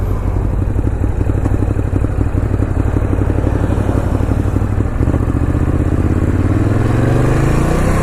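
Water-cooled Ducati Monster 821 motorcycle being ridden on a test ride, with a loud, steady engine drone and clatter throughout and a slight rise in pitch near the end.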